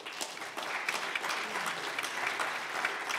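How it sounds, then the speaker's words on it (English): An audience applauds the speakers at a climate finance panel session, a steady round of clapping from a sizable room, fairly even and somewhat distant throughout. "a big round of applause to our speakers"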